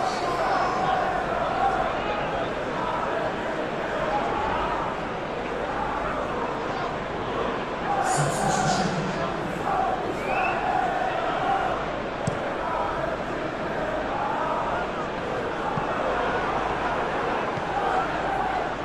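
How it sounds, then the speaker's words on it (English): A PES 2021 stadium crowd applauds and murmurs throughout a West Ham vs Manchester City match, a steady broad roar with a brief swell partway through. "it's good to see that the crowd appreciate his efforts"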